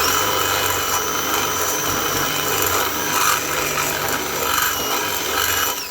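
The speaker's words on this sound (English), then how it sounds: "I'll take a little bit more material out with the drill" Drill cutting material out of a spark plug thread hole during a rethread with a 14mm rethread kit, a continuous loud grinding and rasping of the bit biting metal, steady throughout with slight surges.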